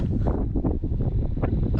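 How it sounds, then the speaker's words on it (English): Gusty wind buffets the microphone on a road in West Texas, producing a continuous low rumble with uneven surges. "sorry it's so windy"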